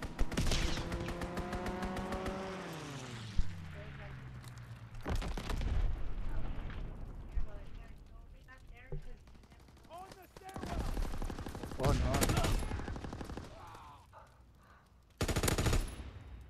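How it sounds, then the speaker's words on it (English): A fighter aircraft strafing run in Call of Duty WWII: bursts of rapid gunfire and heavy explosions come in loud waves, with a falling engine whine early on and quieter stretches between blasts. "Fighter aircraft ready. Yes, yes. Over a strafing run."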